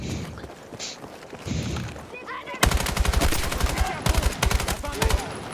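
Light machine gun fire in the video game Battlefield 6 rattles out in rapid, loud, close bursts after a quieter opening of footsteps and ambience, with someone speaking briefly over it.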